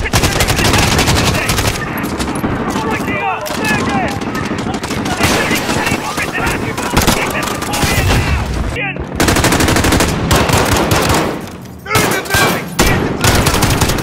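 Gunfire in the 2019 Call of Duty video game: loud, dense machine-gun bursts and shots run almost continuously, with a brief lull near the end and a voice mixed in underneath.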